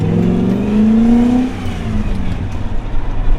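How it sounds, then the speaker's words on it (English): A BMW E34 540i V8 revs hard through a first-gear pull from inside the car, a loud rising engine note that climbs then drops off into a lower, uneven rumble. "I forgot how this car sounds. I just did a little first gear pull."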